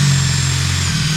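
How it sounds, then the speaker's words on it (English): An electric drill fitted with a bit, run in reverse to countersink screw holes in wood, gives a loud, steady motor whine and hum that holds for the whole moment without a break. "So I actually put the drill bit in and I go in reverse,"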